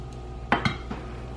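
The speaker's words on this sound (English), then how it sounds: "we're going to be constantly stirring this, guys, because we don't want the sugar to burn" Spoon stirring a fudge mixture of melting sugar and marshmallow fluff in a pot, giving two or three distinct clinks against the metal over a steady low hum.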